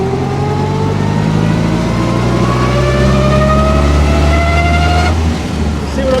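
A 1926 car being driven on the road, its engine droning steadily with a whining gear note that climbs and shifts before a change of gear near the end, loud and close throughout.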